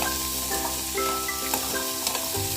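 Carrot and potato pieces frying and being stirred in a home kitchen pan, giving a steady, close sizzle with light scraping over a constant tonal background.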